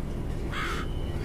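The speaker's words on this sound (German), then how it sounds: "Och Gott, diese Krähe!" A crow caws once, a single short harsh call over a dense low rumbling background in the horror co-op game Survivors.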